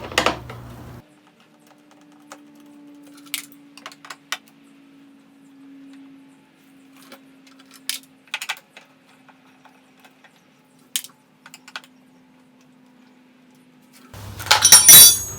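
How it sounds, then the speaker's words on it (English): Eight-millimetre bolts come out of the air filter cover on a Kawasaki KLX140 dirt bike. Sparse, close metallic clicks and taps sound over a faint steady hum, ending in a louder clattering rattle. "once you got all 4 8mm bolts out, this cover just pops off just like that"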